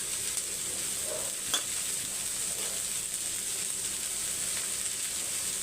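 Green broad beans added to half-fried onions in a pan give a steady, soft sizzle with a faint stir or clink, close by and with no talk.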